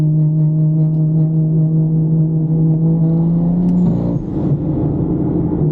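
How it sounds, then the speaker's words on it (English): Cabin view of a 430hp stage 2 car engine running on 95 octane fuel, a steady close drone at cruising revs that dips and shifts briefly near the end, with no talking. "the engine just doesn't want to just go"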